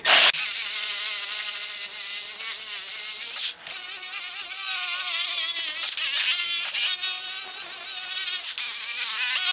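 A car flywheel is sanded with coarse 36-grit sandpaper, a loud, close, continuous high grinding whine with a brief dip partway through.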